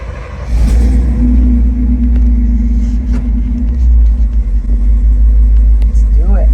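A 1966 Chevrolet C10 pickup with a swapped frame drives on the open road, giving a loud, steady engine and road rumble from inside the cab with faint voices underneath.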